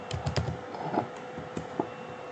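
A few soft key taps on a computer keyboard entering values in Maya 2023, faint and close over a steady background hiss.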